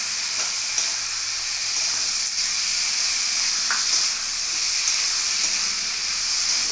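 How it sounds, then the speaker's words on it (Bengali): A spice paste of cumin, ginger, tomato, chili and turmeric sizzles steadily in hot oil while being sautéed, a constant close hiss with occasional faint scrapes of stirring and no talk. "দিয়ে মশলাটা কষিয়ে নেবো"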